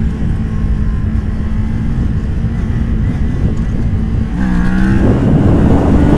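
Motorcycle engine during a wheelie: a loud, steady close-up engine drone that rises in pitch and revs harder toward the end.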